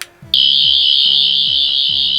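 A toy Doctor Who 14th Doctor sonic screwdriver on its red-light setting gives a loud, piercing electronic whine holding steady while a lower pulsing tone repeats underneath in a quick rhythmic cycle.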